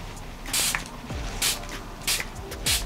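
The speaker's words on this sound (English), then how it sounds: "I'm going to go back in with my setting spray and spray a little bit to set this" Setting spray misted onto a made-up face in short bursts, four quick hissing sprays spaced about a second apart, close and fairly loud with no talking.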